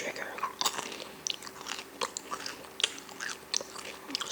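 Close, crisp chewing and biting of M&Ms and fruit snacks in an intimate whisper-style eating session, with irregular crunchy bites and soft mouth sounds scattered throughout and no clear talking.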